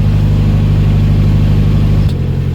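A narrowboat diesel engine runs hard at full throttle around 1500 RPM, a loud steady low drone that holds level and then shifts pitch near the end.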